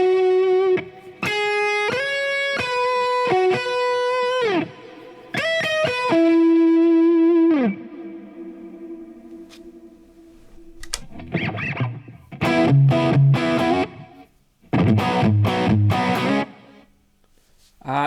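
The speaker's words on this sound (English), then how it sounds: "if I want more reverb, I can get it like this" Electric guitar played through a Hughes & Kettner Nano amp pedalboard rig on a reverb preset with stereo delay, heard as loud sustained chords and single notes, then strummed passages with long ringing tails, no talking.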